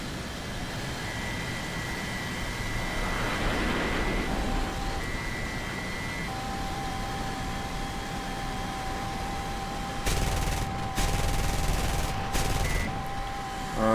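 Aircraft cannon bursts from a G.91 jet fighter in War Thunder, two loud broadband bursts near the end after a long stretch of steady engine and wind roar.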